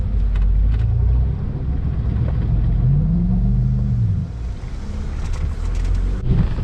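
An off-road vehicle drives through deep water on a forest trail, its snorkel set at hood height. A loud, steady engine rumble mixes with rushing, sloshing water and wind buffeting the microphone, with no voices.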